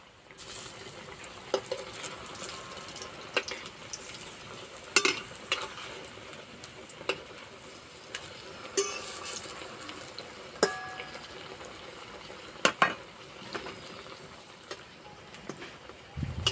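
Pumpkin leaf fritters frying in a pan over low heat, a steady crackling sizzle with occasional stirring or clattering taps from a spoon, heard up close with no talk.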